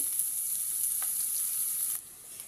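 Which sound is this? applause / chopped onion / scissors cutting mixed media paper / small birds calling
chopped onion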